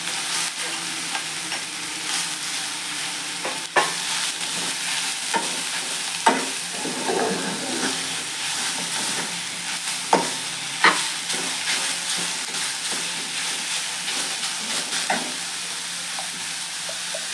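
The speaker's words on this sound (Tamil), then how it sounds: "இப்போ இந்த நெய்லேயே இந்த சுரக்காய் கொட்டி நல்லா வதக்கிக்கலாம்." Bottle gourd sautés in ghee for payasam, a soft continuous sizzle broken by occasional clinks and scrapes of stirring, close by and without voices.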